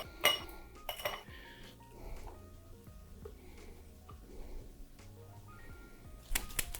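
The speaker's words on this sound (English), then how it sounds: "I'm gonna add in our ice." Ice cubes clatter into a cider glass for a summer drink, a few sharp clinks and rattles near the start and again at the end, with softer glassware handling in between.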